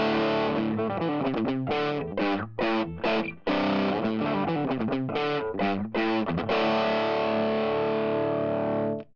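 Electric guitar played through a 1953 Gibson GA-40 tube amp with no pedal, giving a gritty, driven tone; a steady run of chugging chords and riffs with brief gaps, loud and close, then a held chord.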